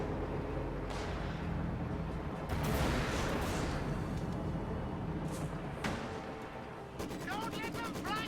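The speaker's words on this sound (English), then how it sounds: "Good use of the high explosive barrage right there as kind of a faux Katyusha replacement" High-explosive artillery barrage in a World War II strategy video game, a run of booming blasts and rumbling impacts with a crackle of rapid fire near the end, loud and dense throughout.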